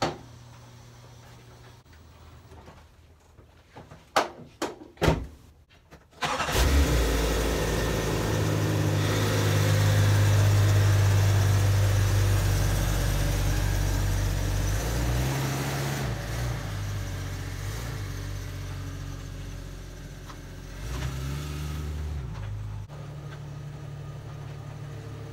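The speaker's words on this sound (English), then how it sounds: "Now I need to go take it for a test drive." A Jeep engine cranks and catches at about six seconds, then runs steadily with a low rumble that rises and falls as the Jeep pulls away and drives.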